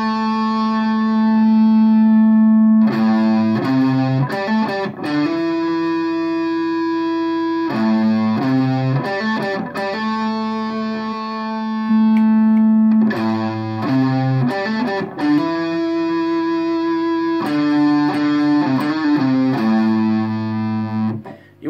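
Distorted electric guitar loudly plays the phrases of the riff a second time, with sustained chords and choppy repeated figures in a steady rhythm, with no talking.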